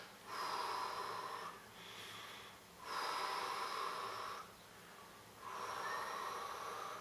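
Deep breathing during a children's Pilates session: slow breaths drawn in through the nose and let out through the mouth, three loud, close cycles at an even, unhurried pace.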